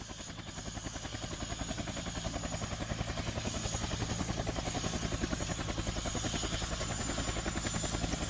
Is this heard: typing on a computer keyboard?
no